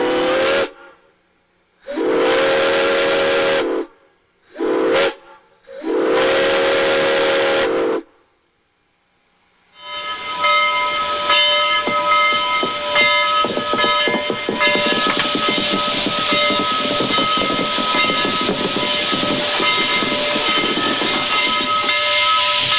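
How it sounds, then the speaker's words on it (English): Steam locomotive at Chattanooga, Tennessee, giving several loud, separate whistle blasts, then a long, steady, roaring hiss as it blows off steam. "a special locomotive can't wait to blow off a little steam"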